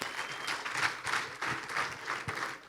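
Applause from a studio audience on a Rwandan talk show greeting hip hop artist Riderman, a steady crackle of clapping lasting a few seconds with no speech over it.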